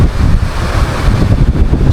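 Strong wind buffets the microphone beside a lake, a continuous loud low rumble with gusty surges and no voices.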